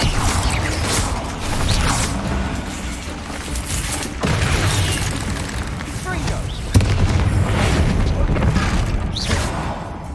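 Spell combat in Hogwarts Legacy with booming magical blasts and explosive impacts over continuous dense game noise, with sharp hits landing every few seconds and spoken incantations mixed in.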